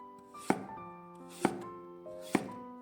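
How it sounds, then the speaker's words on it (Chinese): A knife cuts peeled pumpkin into thin slices on a board, three distinct chops about a second apart, each a sharp thunk with a short ringing tail, close and fairly quiet. "去皮洗净之后，改刀切成薄片儿，南瓜尽量切的薄一些"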